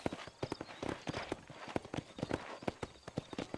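Horse hooves clip-clop steadily on the ground in the Red Dead Redemption video game, a quick regular gallop rhythm that sounds fairly close, with no talking over it.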